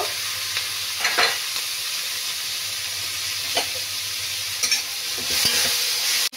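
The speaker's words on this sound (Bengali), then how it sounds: "এখন আমি পেঁয়াজটা ভেজে নেব" Onion fries in butter and soybean oil, a constant close sizzle broken by several sharp scrapes and clinks from stirring, with no voices.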